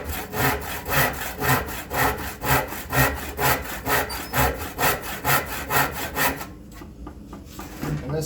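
A hand saw cuts through wood for a spice rack in steady back-and-forth strokes, roughly two per second, close and fairly loud, stopping near the end.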